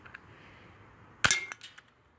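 A cheap UKARMS G36S plastic airsoft revolver fires a single sharp, snappy pop at a metal can. A small clink follows right after it. The shot is close by and stands out against a quiet room.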